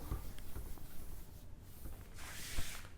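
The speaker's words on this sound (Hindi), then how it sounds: "मैं यहां पर ऊपर लिखता हूं इसको" Marker or chalk scratching on a board during a chemistry lecture on preparing alcohols, with short irregular strokes and a brief louder hissing stretch, close and moderately quiet, no talking.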